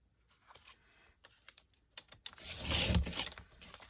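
Scissors snip through a fabric zipper to turn it into a junk-journal tag: a few light clicks and rustles of handling, then a louder, close crunching cut near the end, with no talk.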